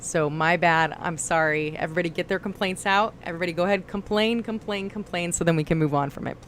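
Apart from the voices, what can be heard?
No everyday noise stands out behind the speech.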